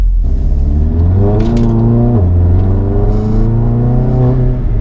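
A loud APR Stage 2 tuned MK7 Volkswagen GTI in comfort mode accelerates hard from inside, engine note climbing in pitch, dropping at a gear change, then rising again.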